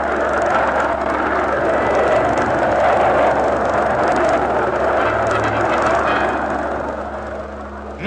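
Two aerobatic planes flying the mirror formation, one inverted a few feet above the other, drone steadily and loudly throughout with a broad engine roar that eases slightly near the end.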